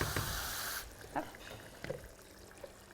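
Water pours into a pan of seasoned, simmering sauce for stuffed cabbage ballotine in a kitchen, a steady splashing rush for under a second that stops abruptly, followed by a few faint clinks and soft handling sounds.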